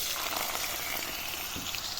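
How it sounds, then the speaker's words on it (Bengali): Potato pieces fry in hot oil for leftover-rice fried rice, giving a steady, close, hissing sizzle that holds evenly throughout with no voices. "এখন আমি ওই তেলে টুকরো করে নেওয়া একটা আলু ভেজে নিচ্ছি"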